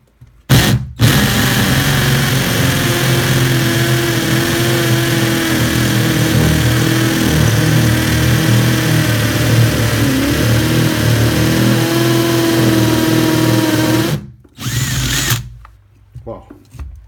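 A TECCPO TDHD01P 18V cordless hammer drill with a 14 mm bit drills continuously for about thirteen seconds, a loud, close, sustained whine with a steady hum beneath, then cuts off, followed by a brief second burst.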